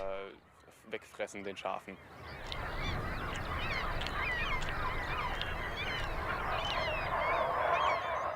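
A dense flock of geese honks continuously at a distance on German islands, a busy chorus of overlapping calls following some brief talk and sounds at the start.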